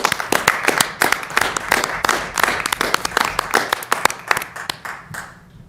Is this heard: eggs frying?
no